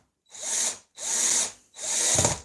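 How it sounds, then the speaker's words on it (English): A power drill drives into wood in a woodworking shop, three loud whirring bursts of equal length separated by short pauses, close up and with no voices. "I know you've got the ratchet on the drill as well you could use"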